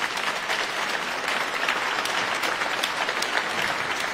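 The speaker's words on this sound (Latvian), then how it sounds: "Aplausi viņiem vēlreiz." An audience applauds the Riga chamber choir Ave Sol at a concert, a dense, even wash of clapping from a sizeable crowd sustained throughout.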